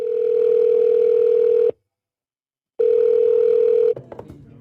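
A telephone call rings out in two long, loud, steady tones separated by a silent gap, before a voicemail greeting, then a brief clatter.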